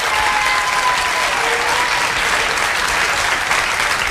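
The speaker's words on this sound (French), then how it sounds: "On peut applaudir Rika." Studio audience on a French TV talk show clapping for a guest, an even, dense wall of applause that holds steady and loud from start to end with no voices over it.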